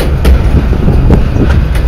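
Train rolling on rails out of a yard toward a bridge, a loud, close, continuous rumble with a few faint rhythmic clicks from the wheels.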